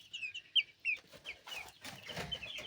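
Rizi breed rooster on a poultry farm giving several sharp, high clucks close by in the first second, followed by softer scratchy farmyard noise with no talk.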